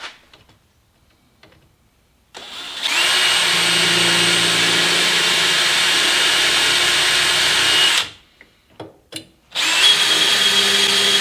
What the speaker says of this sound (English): just drill these here so I can mark where they go